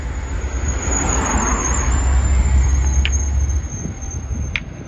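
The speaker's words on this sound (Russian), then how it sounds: "машины немножко мешают, проезжают" Cars pass steadily along a roadside in Tajikistan, a continuous broad rumble of traffic that swells and holds through the middle, with a faint high whine running over it.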